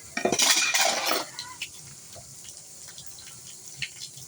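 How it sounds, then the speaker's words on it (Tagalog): Plates and cutlery clatter under a running kitchen tap during morning dishwashing, a busy burst of clinking and splashing water at first, then quieter occasional knocks and faint trickling. "Hugas muna kami plato."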